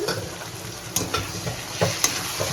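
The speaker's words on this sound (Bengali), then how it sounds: "আদা রসুনের পেস্টটা দিয়ে দিচ্ছি, একটু ভেজে এর মধ্যে মাংসটা দেবো" Ginger garlic paste frying in a pan for Bengali chicken chaap, a close, steady sizzle broken by several sharp scrapes and clinks of stirring.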